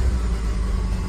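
Stock 5-liter V8 in a 2019 Ford F-150 running at a steady idle, a continuous low rumble with no revving, close and even throughout.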